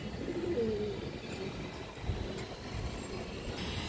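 A silver knot pigeon gives a few soft, low coos near the start, against a steady background hum and faint traffic.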